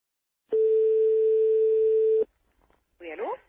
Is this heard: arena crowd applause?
no